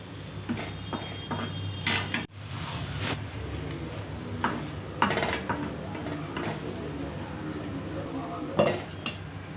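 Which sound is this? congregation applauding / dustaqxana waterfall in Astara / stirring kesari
stirring kesari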